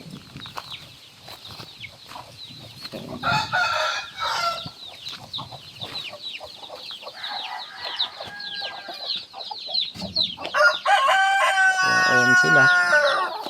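Rhode Island Red chickens cluck steadily at close range, with a rooster crowing loudly near the end in a backyard flock, while someone talks over them.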